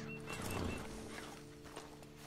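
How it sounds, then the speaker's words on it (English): Horse hooves clip-clopping in the Red Dead Online video game, a few quiet hoof strikes over a faint musical hum, with a brief horse snort. "You better get on this horse."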